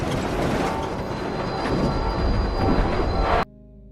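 A train rattles and shakes violently just before derailing, a loud dense rumble of wheels and clattering carriage that builds, then cuts abruptly to a quiet low hum.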